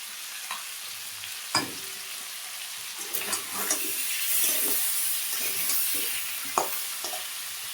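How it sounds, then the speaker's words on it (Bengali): Fried onion, tomato and potato sizzling in a pan for a fish curry, a close, steady hiss broken by several sharp spatula scrapes and clinks against the pan. "এখন আমি ভেজে রাখা পেঁয়াজ আর টমেটো দিয়ে দিলাম, আর একটু আলুও দিয়ে দিলাম।"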